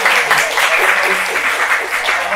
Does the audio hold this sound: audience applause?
yes